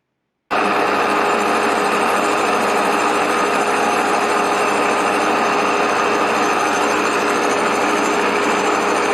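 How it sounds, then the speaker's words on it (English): A milling machine cuts a Saab 900 Turbo exhaust manifold flat, starting abruptly and then running as a loud, steady, even machining drone close by. "I had to sort out the exhaust manifold, make it flat again"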